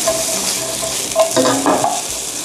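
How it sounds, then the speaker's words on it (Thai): Fried rice gravy ingredients stir-fried in a pan, a steady sizzle with the soft scrape of stirring and a few louder clinks of a utensil against the pan. "ทีนี้เราจะมาผัดปรุงให้สุกกัน"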